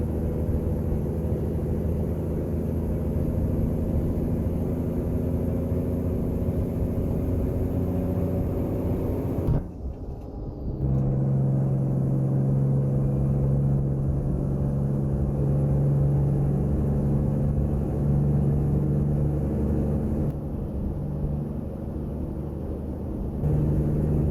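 A heavy truck engine in American Truck Simulator drones low and steady, cuts out briefly after a missed gear, then returns with a rising grinding rumble and a high whine.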